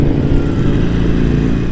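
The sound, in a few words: motorcycle engine revving during ride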